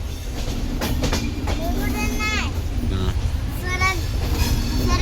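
A MEMU train rumbles steadily close by with rhythmic rolling noise, while people's voices rise and fall over the din.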